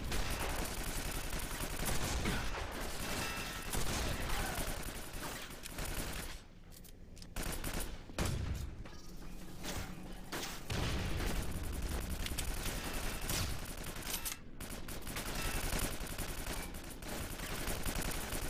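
Relentless gunfire from enemies in Quake 4, dense bursts of rapid shots and heavy blasts layered loudly together, with a couple of brief lulls before the barrage resumes.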